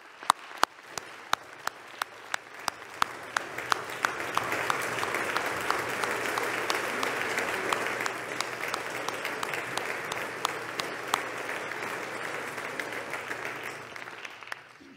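Applause fills the Senate chamber, starting with scattered sharp claps that swell into sustained, even clapping from many people, then gradually thins back to individual claps near the end.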